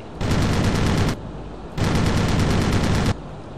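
Two long bursts of automatic gunfire in a video game, each dense and sustained for about a second, loud and close, with a short gap between them and no talk over them.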